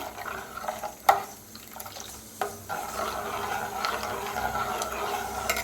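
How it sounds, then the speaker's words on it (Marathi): Kadhi being stirred in a pot: a continuous wet swishing and scraping of the spoon through the thick liquid, with a couple of sharper clinks against the pot's side, close and moderately loud. "हलवतच राहायचं म्हणजे कढी फाटत नाही"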